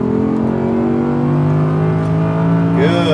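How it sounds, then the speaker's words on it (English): An Audi R8 with a V10 engine accelerates at full power on a track, a loud steady engine roar with rising harmonic tones that climbs in pitch near the end, close and continuous. "And start to accelerate. Good, and full power."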